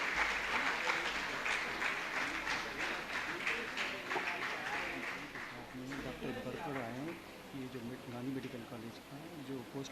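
Audience applause at the inaugural ceremony of a naturopathy and yogic science medical college, steady clapping from a seated crowd lasting throughout, with a voice talking over it in the second half.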